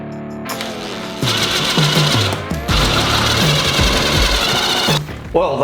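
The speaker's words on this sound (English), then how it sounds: "let's drill out those rivets too" A power drill bores out rivets on parts for a turbocharged 1.8-liter four-cylinder engine top end. It gives loud, close, rattling bursts that stop and restart several times, with no talking.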